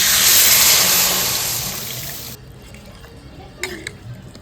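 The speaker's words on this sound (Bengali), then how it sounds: "এইবার আমি জল দিয়ে দিচ্ছি" Water pouring from a vessel into a cooking pot of potato and spice mixture for a Bengali fish curry: a loud, steady rushing pour for about two seconds that cuts off, followed by a quieter settling with a couple of small clinks.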